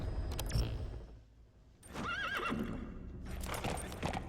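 A horse in the Metal Gear Solid V game whinnies loudly, then clip-clop hooves and another neigh follow in short bursts, close and clear with no talking.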